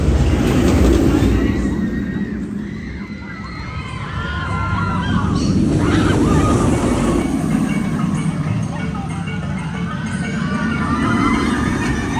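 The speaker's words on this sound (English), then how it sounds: "The roller coaster just weaves through this entire area" The Rapterra roller coaster at Kings Dominion rushing along its track, a loud rolling roar with rattling wheels and clacking that swells and fades as trains pass nearby, with crowd noise mixed in.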